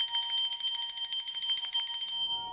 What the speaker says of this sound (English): So just playing the bell to anchor those energies